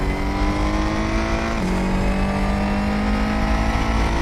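A Ferrari 488 GT3 race car in a racing video game, driven at Imola, roars steadily at full throttle, its loud engine tone climbing and then dropping briefly as it shifts up before climbing again.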